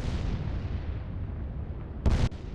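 The battleship Barham exploding under artillery fire in the Atlantic Fleet naval game: a deep, rolling roar of blast rumble, ending in a short, loud burst near the end.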